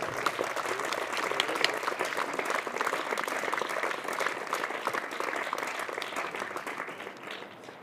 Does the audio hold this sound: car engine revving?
no